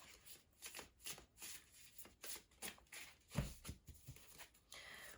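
Tarot cards shuffled by hand, close and quiet, in repeated riffling bursts with short pauses and a louder slap of cards near the middle.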